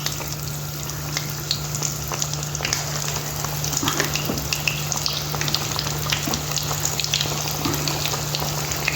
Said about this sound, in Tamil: மாவு எடுத்து சிக்கன் எடுத்து இப்போ போட்டுருவோம். மாவு ஃபுல்லாக எல்லாத்தையும் வறுத்து எடுத்துக்குவோம்.